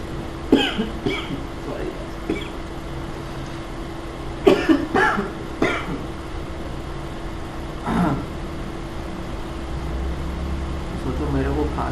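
A man teaching a physics lecture on light coughs repeatedly, a series of sharp separate coughs spread through the stretch over a low background hum.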